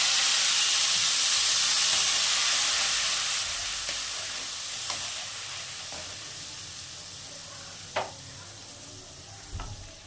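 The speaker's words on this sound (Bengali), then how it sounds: "এবার এটা আমি কষিয়ে নেব ততক্ষণ যতক্ষণ না এর থেকে তেল ছাড়ছে" Tomato with turmeric, salt, chilli powder and a little sugar sautés in hot oil with a splash of water for shing fish curry, a loud, steady sizzle that slowly eases, with a couple of soft utensil clinks.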